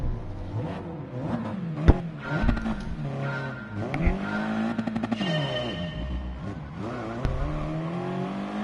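Audi TT race cars in a Gran Turismo Sport Audi Cup race, engines droning and revving steadily as a pack, with pitch rising and falling through gear changes and a brief tire squeal.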